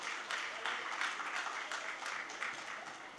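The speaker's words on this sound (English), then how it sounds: "So a round of applause to them and more power to their work in the arts." Faint, patchy clapping from an audience applauding arts panelists, a thin spread of handclaps with slight pulsing, heard at a distance and fairly quiet.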